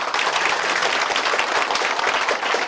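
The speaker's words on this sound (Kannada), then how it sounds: "ಒಮ್ಮೆ ಜೋರಾದ ಚಪ್ಪಾಳೆ ಬರಲಿ." Loud, dense applause from a crowd at a Radhas Diwali and Navaratri festival event: continuous close clapping that fills the whole moment without pause.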